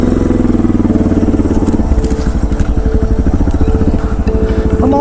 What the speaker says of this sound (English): I'm on a supermoto!